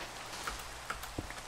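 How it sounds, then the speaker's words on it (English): Steady rain falling in the video game Minecraft, a soft continuous hiss of drops with a few faint, brief ticks, heard alone with no voices. "Love it when it rains in Minecraft."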